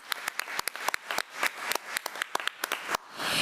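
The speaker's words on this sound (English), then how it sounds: "Let's give her a round of applause." Scattered applause at a policy committee meeting honoring a 12th grade student, distinct individual claps from a small group, sparse and irregular, fading into a soft rush at the end.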